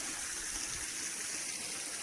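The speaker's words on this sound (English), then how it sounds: "the water is coming from under the mountain" Creek water in the Tayrona jungle flows out from beneath a mountain, making a steady, close rushing wash that holds even and unbroken throughout, with no voices.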